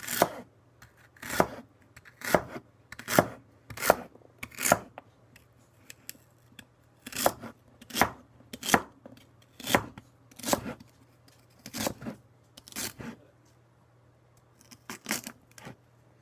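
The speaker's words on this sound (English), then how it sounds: "now everybody has their own method of cutting the celery." A knife cutting celery into slices on a board for homemade chicken noodle soup, a series of crisp chops in uneven bursts with short pauses, close and distinct.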